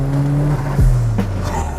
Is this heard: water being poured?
no